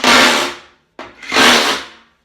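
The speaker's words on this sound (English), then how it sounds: "we get our Vibraclean SDS attachment into a hammer drill, make sure it's on hammer, and then all you do is move it along the bottom of the radiator" A hammer drill on hammer setting, fitted with a Vibraclean SDS attachment, is pressed against the bottom of a radiator, giving two loud rattling bursts about a second apart with a short silence between.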